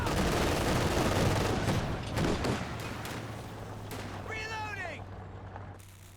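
Rattling machine gun bursts and scattered gunfire sound in a Company of Heroes 2 battle, dense at first and then thinning out under a steady low hum, with a commentator talking over the action.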